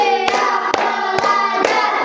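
Students clapping hands together in a classroom ice-breaking game, four sharp unison claps spaced evenly against a sustained tonal background.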